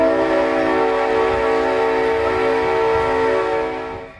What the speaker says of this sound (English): But for now, the train chugs along.